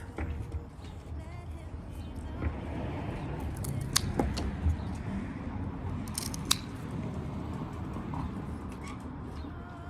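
Scissors snip off long, heavy plant stalks with a few sharp, close cuts spaced over a steady rustling background, and nobody speaks.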